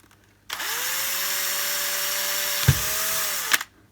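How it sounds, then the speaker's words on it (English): A power drill whirs steadily for about three seconds as it bores into wood, with a thump partway through, then cuts off. "It's even got a nice little dent in there ready for me to drill."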